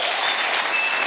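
Studio audience applause on a Venezuelan TV talk show, a steady, dense wash of clapping filling the room with no voices over it.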